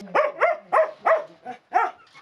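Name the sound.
dog barking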